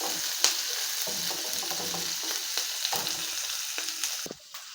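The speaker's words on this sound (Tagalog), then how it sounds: "Gisa natin ang sibuyas at bawang." Onion and garlic sauté in a hot pan for a home-cooked Filipino dish, with steady close sizzling and frying broken by soft scraping and stirring taps.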